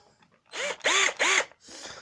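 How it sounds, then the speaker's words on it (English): A handheld power drill spins up in three short bursts, each rising and falling in pitch as the trigger is squeezed and released, with quiet pauses between. "A drill"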